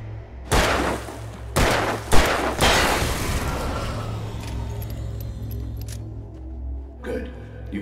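Gunfire in the Alan Wake Remastered video game: three or four loud, sharp shots close together, each trailing into a long reverberant decay, then quieter rumbling ambience with a faint final thud.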